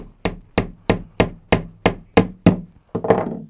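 Nine sharp hammer blows on a wooden bench, evenly spaced and close by. Each strike rings briefly, and the last one is slightly messier.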